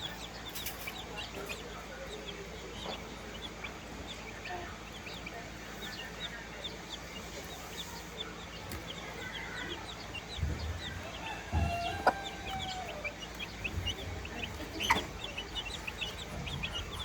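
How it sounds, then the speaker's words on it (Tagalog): Backyard farm chickens kept in a pen give soft, steady clucking with scattered louder calls, heard at a moderate distance over a constant outdoor background. "Ito naman yung ating mga manok na"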